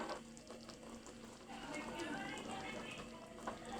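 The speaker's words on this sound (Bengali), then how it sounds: "এই তো ডালে বলক এসে পড়েছে" Lentil dal with raw onion bubbles and simmers in a pot, a soft continuous bubbling patter at close range, faint and steady.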